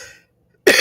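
A single sharp cough bursts out near the end after a short silence, close and loud, preceded by a faint fading sound.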